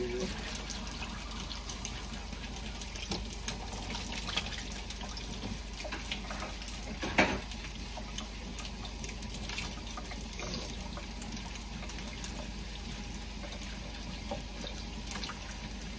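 Water poured from a tap into food warming in a pan on a home kitchen stove, a soft continuous running and trickling with occasional drips and clinks, faint and steady, under quiet background noise.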